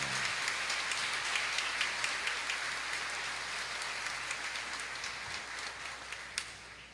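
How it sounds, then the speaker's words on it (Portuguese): Church congregation applauding during a novena homily at a Catholic feast celebration: a dense, sustained wash of many hands clapping at once, steady and fairly loud throughout, easing off slightly near the end. "Palmas para Maria."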